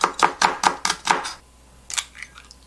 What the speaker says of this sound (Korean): 양배추와 양배추 채썬 것과 양파 생으로 먹을 거기 때문에 조금만 가늘게 채 썰어 주겠습니다